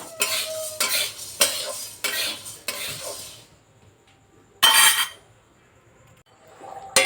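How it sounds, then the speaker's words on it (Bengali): Urad (biuli) dal being stirred and dry-fried in a pan, with repeated scraping strokes of a utensil against the metal for a few seconds, then a pause and one more loud burst of stirring, close up and with no talk. "বিউলির ডালটা আমি একটু নাড়াচাড়া করে একটু ভেজে নিই।"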